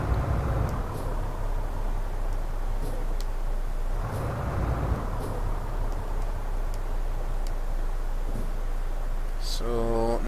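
An Iveco truck engine in Euro Truck Simulator 2 gives a steady low diesel drone while driving. It runs continuously under someone talking, and a brief tonal hiss comes at the very end.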